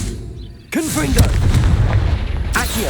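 A sudden booming Confringo spell blast in Hogwarts Legacy bursts in loudly, followed by crackling debris and rumbling, then a second blast hits near the end.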